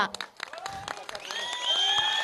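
A school audience standing to applaud soldiers at an event claps in a short, dense burst. Voices call out over the applause.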